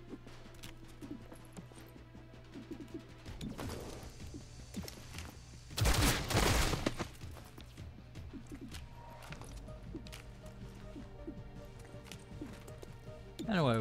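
Bursts of gunfire from the tactical video game XCOM Chimera Squad, a loud cluster of shots near the middle over game music and effects, with a voice commenting throughout.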